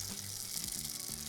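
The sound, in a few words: vegan arepas sizzling on griddle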